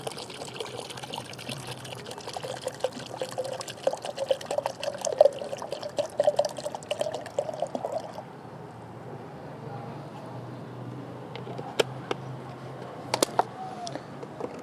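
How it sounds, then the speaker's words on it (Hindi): A litre of water is poured into a container of homemade liquid fertilizer, a gurgling trickling stream with splashes that tapers to a few drips, with faint talk in the background. "अब इसमें 1 लीटर पानी हम मिला देते हैं।"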